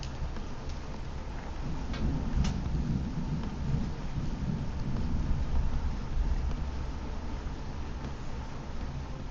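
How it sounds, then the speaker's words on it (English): Thunder rumbles low and long outside, a deep rolling growl building and fading over several seconds beneath faint rain and scattered ticking sounds indoors. "Anytime I hear thunder like that, I always save right away because I don't want to lose my work."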